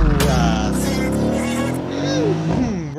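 A car engine revving hard in an AMG-themed Danish rap music video, a loud rising and falling roar that climbs in pitch and drops back near the end, with a voice briefly audible.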